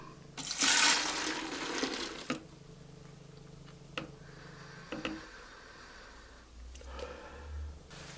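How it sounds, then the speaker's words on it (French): Demineralized water, 375 ml, pours into a container while mixing giant soap bubble solution, a loud splashing burst in the first two seconds, then quieter trickles and small clinks. "Ensuite, l'eau déminéralisée. 375 ml."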